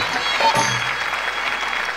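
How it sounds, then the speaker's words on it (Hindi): Loud, dense applause from a large audience at a Haryanvi Ragni folk singing competition, a steady wash of clapping filling the whole stretch. "जोरदार ताली पीछे तक, बहुत अच्छी।"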